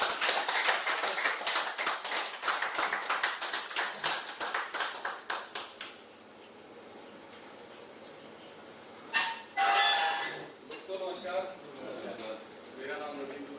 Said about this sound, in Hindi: जो भी आ रहा है उसके लिए जोरदार ताली बजाएं